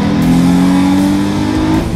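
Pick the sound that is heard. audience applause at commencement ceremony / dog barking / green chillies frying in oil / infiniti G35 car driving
infiniti G35 car driving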